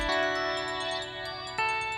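A mobile phone ringing in a home, a steady electronic ringtone with sustained tonal notes that shifts pattern briefly near the end, loud and close with no talk over it.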